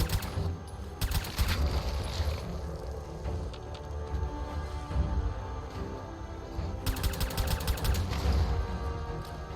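Bursts of gunfire in the video game Fallout 4, with rapid volleys early and again near the end separated by a busier, lower rumble of combat, loud and close with no voices.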